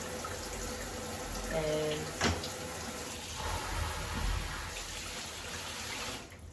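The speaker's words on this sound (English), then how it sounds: "let's turn the water on" A shower head turned on during a hairless Sphynx cat's bath gives a steady broadband rush of running water, moderately loud and continuous throughout, with a brief louder splash partway and a voice speaking briefly over it.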